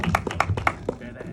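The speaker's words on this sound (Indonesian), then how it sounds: "Tepuk tangan dong." A few people clap briefly at a film event for a horror movie, quick sparse slaps at close range, mixed with speech.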